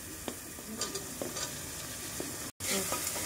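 Chopped vegetables, among them tomato, carrot, potato, beans and cauliflower, sizzle steadily in a pan for veg biryani, with occasional stirring scrapes over the continuous frying hiss and a brief dropout near the end.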